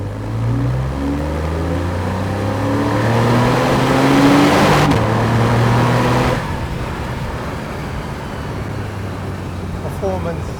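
Porsche 911 Carrera with PDK transmission revving hard, a loud sustained engine note with rising harmonics that builds, peaks and cuts off abruptly before settling back to a steady drone.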